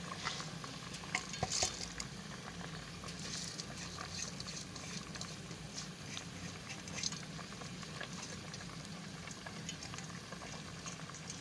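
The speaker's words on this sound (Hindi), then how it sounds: "पानी में उबाल आ गया" Water coming to a boil for vegetable rice with potatoes and peas, a soft steady bubbling and patter in a pot with occasional faint clinks, quiet and without speech.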